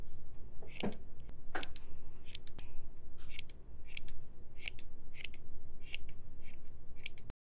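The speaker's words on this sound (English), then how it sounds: "all you need to do then is just trim this down a little bit" Scissors snip around a yarn pom-pom in a crochet cactus kit, making a series of crisp, close clicks in an uneven rhythm, about a dozen cuts over a soft steady background hiss.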